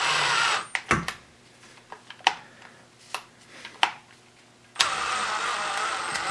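Ryobi Auto-Shift cordless drill motor whirring steadily at high speed, broken by several sharp clicks and brief gaps before a loud continuous run resumes at the end, close and clear with no talk.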